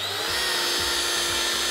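A machine polisher with a pad runs steadily on car paint at high speed under light pressure, a continuous close whine and hum with slight rhythmic pulses as the pad passes over the panel, and no talk.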